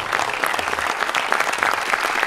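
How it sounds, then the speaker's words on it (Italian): An audience at a cultural event in Isernia gives Franco Valente a warm round of applause, dense continuous clapping filling the whole moment at close range. "fare un dovuto applauso"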